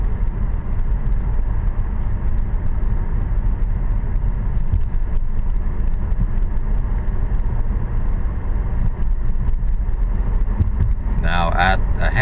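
Car engine heard from inside during a driving lesson: a steady, loud, low road and engine rumble that holds even throughout, with no clear surge.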